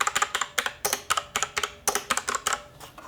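Mechanical keys on a Blackmagic Speed Editor keyboard clack in a quick irregular run of sharp presses, close and crisp, with no voices.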